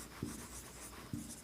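Writing on a board during a maths class, two brief taps or strokes spaced about a second apart over a faint hiss, with no voice.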